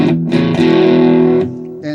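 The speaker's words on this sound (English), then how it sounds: "What does distortion sound like?" An electric guitar played through an overdriven amp with heavy distortion rings out a loud, sustained chord that cuts off, then a brief new strum starts; no talking.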